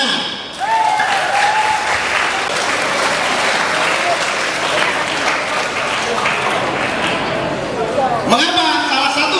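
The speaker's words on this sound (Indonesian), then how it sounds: "Tepuk tangan." A crowd of students at a school orientation event breaks into loud, sustained applause that runs for several seconds, with a voice speaking briefly at the start and again as the clapping fades.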